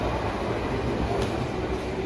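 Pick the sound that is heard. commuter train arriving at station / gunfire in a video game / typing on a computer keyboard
commuter train arriving at station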